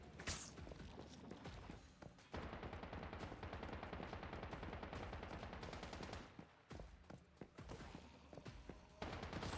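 Enemy gunfire in the survival shooter Once Human, long bursts of rapid automatic shots, loud and close, broken by a short pause before the firing resumes.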